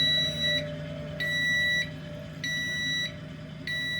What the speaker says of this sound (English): This stupid thing keeps beeping.